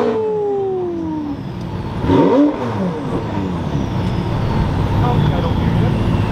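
A V12 Lamborghini Aventador fitted with a ski box revs at a muscle car meet. Its engine note sweeps down and then surges briefly, fairly close, over a busy background of other cars.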